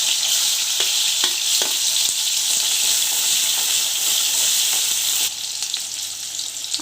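Chopped onions frying in hot refined oil in a wok give off a loud, continuous sizzle broken by a few sharp spatula scrapes, dropping slightly in intensity near the end, with no voices.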